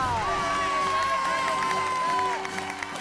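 A crowd claps and cheers for a magician at a lively gathering, a dense continuous wash of applause with voices ringing over it, easing off slightly at the end.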